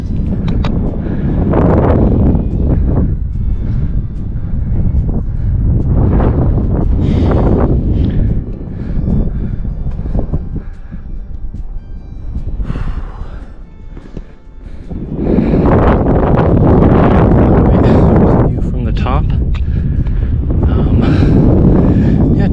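Strong wind near the top of Matanuska Peak buffets the microphone in loud, rumbling gusts that swell and ease over about twenty seconds, with a quieter lull in the middle.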